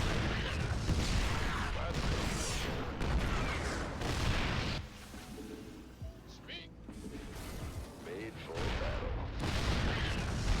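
A massive unit cannon in Starcraft II booms amid game battle noise, heavy impacts and mechanical clatter, loud at first, dipping quieter midway before another burst; a voice talks over part of it.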